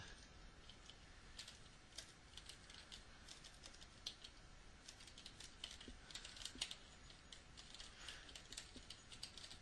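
A computer keyboard clatters as someone types a sentence into Microsoft Word, with quick irregular key clicks at a faint, close level and no voices.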